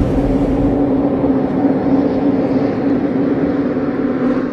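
Trucks roll along the highway into Herat, Afghanistan, a dense, continuous rumble of heavy engines and road noise, loud and unbroken throughout with no talk.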